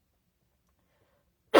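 A single sudden sneeze bursts out close and loud at the very end of near-silence.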